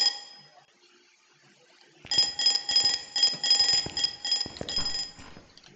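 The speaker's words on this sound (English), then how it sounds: "I pressed the alarm clock on the table." An alarm clock on a table in a dark investigation site bursts into loud, rapid metallic ringing after a couple of seconds of near silence, then rings continuously to the end.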